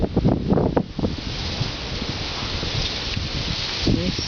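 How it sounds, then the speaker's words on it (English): Strong wind gusting at night on a home porch, a broad steady rushing roar with some rustling and buffeting against the microphone, fairly loud and continuous with no talking. "Coming outside to show you how windy it is"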